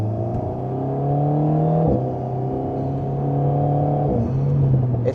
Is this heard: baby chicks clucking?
no